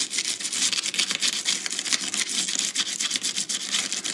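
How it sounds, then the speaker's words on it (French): A stippling brush scrubs loose bits off watercolor paper with quick, dry, bristly strokes, close up and fairly quiet, repeating in an uneven rhythm throughout. "La brosse à poinçon permet d'enlever presque tous les petits morceaux."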